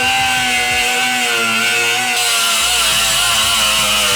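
A power tool grinds continuously through the steel floorboard of a '69 Mustang, throwing sparks, a loud close steady high whine with a slight pitch drop midway and no speech.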